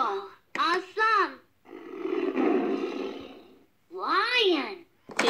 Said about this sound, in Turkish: Aslanın kükremesi çok güçlü.